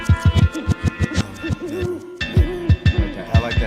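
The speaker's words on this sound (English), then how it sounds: "I like that owl sound." Owl hoots sampled in a live hip-hop song sound as a string of rhythmic low hoots over a pulsing beat, loud and up front with no talk over them.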